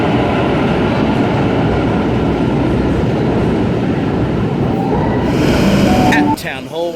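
A Sydney Series 1 Waratah A13 electric train rumbles loudly and continuously past at close range, ending with a short high squeal as it moves off.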